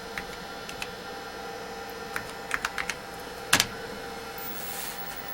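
Scattered key clicks from an original Compaq Portable computer keyboard over a steady electrical hum, a few irregular taps and one louder clack near the end.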